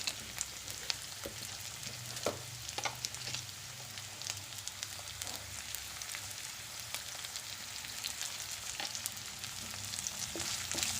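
Soya chunks cook in a pan with a steady background sizzle broken by scattered crackles and light scraping stirs, fairly quiet and with no voices.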